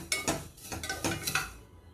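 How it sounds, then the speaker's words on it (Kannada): Metal spoon stirring and scraping vermicelli (semiya) roasting in a kadai, a series of quick clinking strokes in an uneven rhythm, close and fairly loud, fading near the end; no voices. "ಅದೇ ಕಡಾಯಿಗೆ ಈ ಸೇಮಿಯಾನ ಇದರಲ್ಲಿ ಹುರ್ಕೊಳ್ಳೋಣ"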